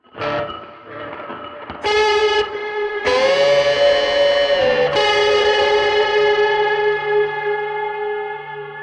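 An electric guitar through an AM ring modulator and heavy fuzz rings out in loud, metallic, siren-like sustained tones that bend and shift pitch, with dense distorted overtones.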